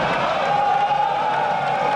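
A big street crowd of football fans in Hong Kong during the 2002 World Cup cheers in a steady, loud roar, voices blending into a continuous wash with no single words standing out.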